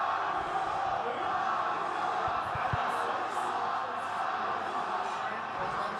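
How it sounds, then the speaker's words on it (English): Arena crowd at a live WWE wrestling event chanting together, a dense continuous roar of many voices held steady throughout, with a few brief low thumps partway through. "No idea what the crowd is chanting."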